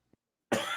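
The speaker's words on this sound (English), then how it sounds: "this damn cough" A single short, sharp cough bursts out close by after a faint tap, loud and abrupt.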